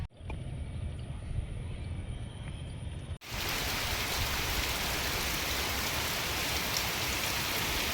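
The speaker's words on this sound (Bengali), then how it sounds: "বৃষ্টিগুলো হচ্ছে এই সময় কোনো বিদ্যুৎ চমকাচ্ছে না।" Steady, dense rain falls heavily and evenly in a village after a brief quieter start, with no lightning, a continuous hiss of drops on surfaces with no voices.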